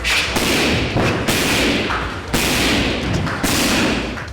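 Heavy Muay Thai kicks thud loudly against a pad in a rough rhythm, about four big impacts with sharp cracks and echo between them.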